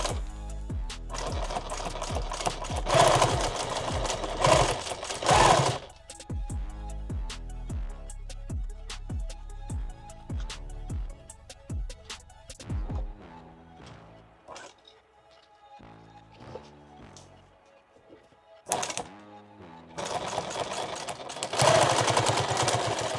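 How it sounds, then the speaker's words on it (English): Sewing machine stitching the channels of an OD green padded war belt, running in rapid mechanical bursts that start and stop, loud and close, with quieter gaps between runs. "I'm gonna come a little bit outside so that I can sew it right on that edge."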